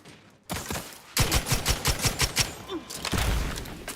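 Gunfire from a new weapon in the video game The Outer Worlds 2, a dense run of rapid, loud shots in quick rhythmic bursts, with heavy low thumps toward the end.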